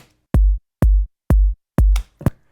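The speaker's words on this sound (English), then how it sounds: "let's say a little 4/4 kick drum going on" Four deep, punchy kick drum thumps synthesized in Native Instruments FM8 land on a steady 4/4 beat, followed by a couple of quicker, lighter hits at the end.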